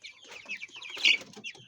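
Chickens clucking and chattering together while feeding under lights, a busy flock close by with overlapping soft calls and one brief louder squawk.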